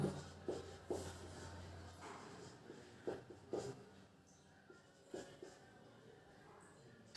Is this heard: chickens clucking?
no